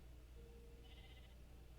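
A faint single sheep bleat from the Minecraft video game rises briefly over a steady low background hum.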